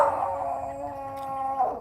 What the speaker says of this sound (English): Tony, your dogs are talking to my dogs